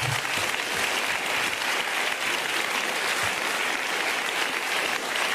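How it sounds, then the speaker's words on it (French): A studio audience on a French comedy talk show applauds, a dense, even burst of clapping that stays loud and steady for over five seconds with no talk over it. "on vous applaudit tous les deux de toute façon"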